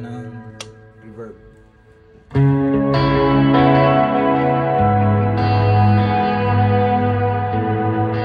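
An electric guitar runs through a Strymon Volante delay stacked with a Plethora X3 reverb. Sparse picked notes come first, then a loud sustained chord blooms at about two seconds into a wide, washy tail of repeats and reverb.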